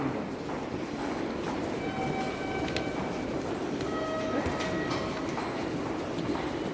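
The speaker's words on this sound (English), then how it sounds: "Those beeps that you hear in the background are for the visually impaired" Repeated electronic guidance beeps for visually impaired passengers in a busy Sapporo subway station, heard over a steady rumble of trains and crowd noise.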